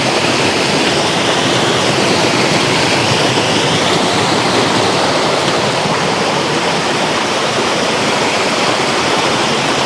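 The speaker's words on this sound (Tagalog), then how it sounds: "Lakas ng tubig." Strong rushing water roars steadily and loudly throughout, a dense, unbroken torrent like a nearby waterfall or fast stream.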